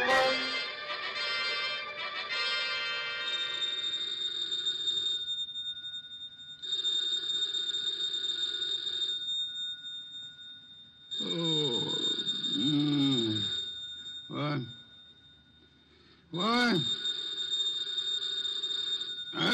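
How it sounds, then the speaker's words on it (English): A telephone rings in several separate bursts of a steady, bright electronic tone, with pauses between them, in a quiet indoor scene. "The phone."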